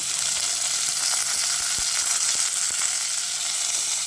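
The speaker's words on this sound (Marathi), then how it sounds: "आणि हे चार चमचे तेल घालते खडा मसाला घालून घेऊया गाजर घालूया" Whole spices and carrots sizzle in four spoonfuls of hot oil for a vegetable pulao, producing a loud, dense and continuous hiss close up, with a few faint spoon knocks and no talk.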